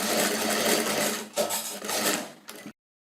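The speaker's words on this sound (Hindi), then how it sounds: "कैनवास के एकदम नज़दीक हम स्टिचिंग लगा रहे हैं इसमें।" A sewing machine stitches a blouse neckline close to the canvas backing, running in a rapid continuous rattle with short pauses near the middle, then stopping abruptly into silence.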